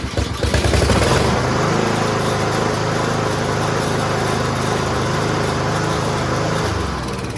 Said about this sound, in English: reinstall the pull start and give it a pull